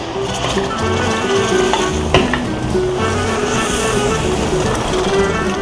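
Milk poured over roasted flour sizzles and bubbles steadily in a hot pan while being stirred, a loud continuous frying hiss with occasional scraping clicks and no talk.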